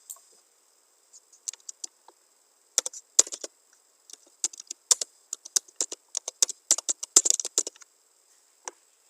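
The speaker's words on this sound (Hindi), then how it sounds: "आपको सिंपली यहाँ पे टाइप करना है, टेक्स्ट टाइप करना है" Keys tapped on a computer keyboard while entering text in a spreadsheet program, irregular bursts of light clicks close by, sparse at first then quicker, over a faint steady background whine.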